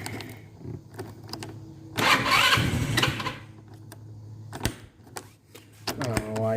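An engine cranks and catches, then settles into a raised idle, with clicks and knocks around it and a person talking now and then.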